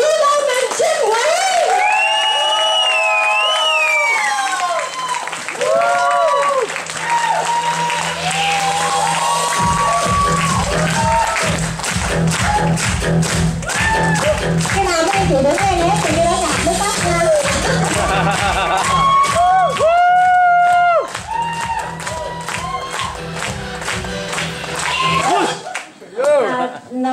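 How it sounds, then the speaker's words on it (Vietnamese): An audience at an indoor community event breaks into rapid clapping and cheering that swells midway and then trails off, with voices and tonal sound before and under it. "mọi người xin hãy cho một tràng pháo tay cho Lula Mình Trinh Nguyễn."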